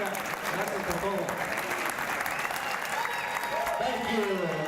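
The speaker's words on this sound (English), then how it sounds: "Let's give another big round of applause, everyone." Sustained audience applause at a WBC boxing event, a dense wash of clapping under a speaking voice over a busy crowd background.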